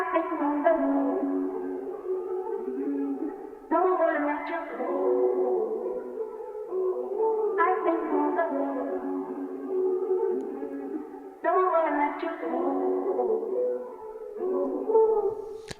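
A pitched-up, heavily processed R&B vocal sample treated with RC20 texture, compression and EQ trimming highs and lows plays as a warm, muffled, looping melodic phrase with distinct repeating sections and no talking.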